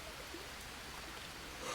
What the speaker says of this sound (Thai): ฝนก็ยังไม่หยุดตกนะครับ